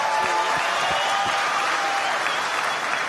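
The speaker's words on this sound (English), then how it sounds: "Another round of applause." Crowd at a party congress applauds continuously, a loud, even roar of many hands clapping from start to finish with no break.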